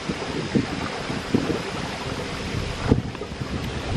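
Breeze blows off a lake by a summer cottage, gusty wind buffeting the microphone with soft rumbling bursts over a constant airy hiss, with a few louder gusts and no voices.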